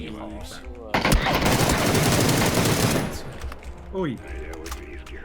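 Rapid bursts of automatic gunfire from the video game PUBG, loud and sustained for about two seconds, with excited talk before and after the shooting.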